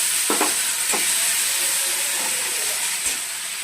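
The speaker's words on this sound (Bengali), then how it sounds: "মশলাটা কষানো, তেল ছেড়ে আসছে" Spice paste of poppy seed and mustard with turmeric sizzling steadily in hot oil in a pan, with a few soft stirring scrapes over the constant frying hiss.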